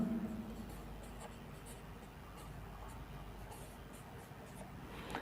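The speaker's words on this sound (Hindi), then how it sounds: "तो लिखेंगे टू, याद रखिए, टू रोशन" Chalk or a marker writes on a classroom board in faint, scattered strokes during a commerce accounts lesson, steady low background hum throughout and a teacher's voice lightly present.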